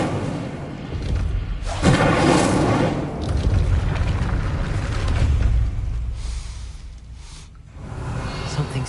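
The Incendio fire spell cast in Hogwarts Legacy: a heavy whooshing boom with a roaring fiery swell that rises, sustains, then fades, layered over game ambience and faint voice, fairly loud and close.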